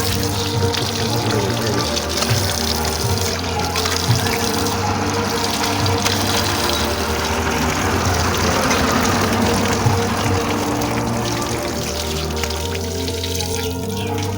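Water runs steadily from a tap or spout at a Hindu temple, Pagla Baba Mandir, a continuous close splashing flow that stays even throughout with no talk over it.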